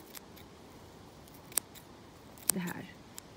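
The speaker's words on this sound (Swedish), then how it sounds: "Jag tar enkelt en sax och klipper helt enkelt bara topparna" Scissors snip the tops off sedum plants with a few sharp, isolated cuts. The snips are quiet and spaced well apart against a soft background.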